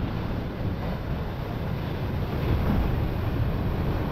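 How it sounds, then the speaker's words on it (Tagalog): Steady roar of heavy ocean surf churning and crashing, with wind buffeting the microphone throughout and no voices. "sobrang lakas na ng alon"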